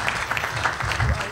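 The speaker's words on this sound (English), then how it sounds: "Give him a round of applause." An audience at a World War II history panel claps for an introduced speaker, a short burst of dense, steady applause from a medium-sized room heard at moderate loudness.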